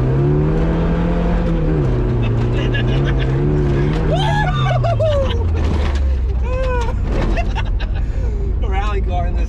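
Engine of a 1981 Ford Courier work truck revving and accelerating up through the gears, a steady loud drone with rising pitch sweeps, while someone talks over it.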